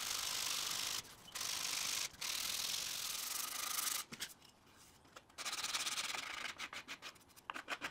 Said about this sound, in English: Next I'll start refining it by sanding and smoothing it out.